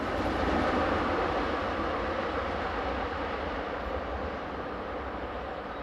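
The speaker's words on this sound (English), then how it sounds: "This is RE66 locomotive number 11648, heading for the yard at Langenthal." An Re 6/6 electric locomotive passes heading for the yard at Langenthal, a loud, steady rumble and rolling roar at close range that eases slightly toward the end, with no talking.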